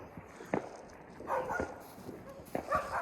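Several dogs bark in short, scattered bursts at moderate distance, with a soft background hiss between the barks.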